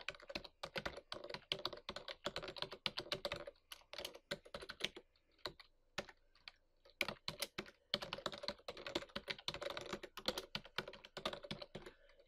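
Someone types a SharePoint URL on a computer keyboard: quiet, close, uneven clicking of keys in quick runs, with a brief pause in the middle before the tapping resumes.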